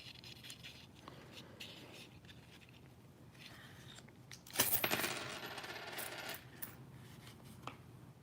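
Canadian nickel coins dropping and clinking, with scattered light taps first, then a loud cascade of metallic jingling that trails off into a few clinks.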